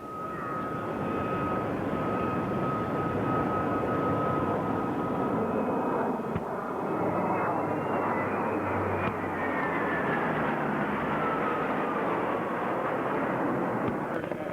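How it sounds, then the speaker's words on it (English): A KC-130 Hercules military transport drones overhead at an air show demonstration at Camp Lejeune, a loud continuous propeller and engine roar with a shifting whine as it passes, sustained throughout. "you'll observe a KC-130 Hercules providing area refueling for our combat aircraft just above the trees to your front"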